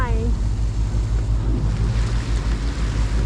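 Steady wind buffets a sailboat off the Baja Pacific coast of Mexico, a continuous low rushing roar with microphone wind noise and a brief voice at the very start.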